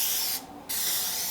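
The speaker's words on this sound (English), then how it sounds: "we're going to actually grease the pan, and I'm going to use some Pam spray" Pam cooking spray hisses loudly onto a cake pan in two close bursts, a longer spray, a brief pause, then another, heard alone.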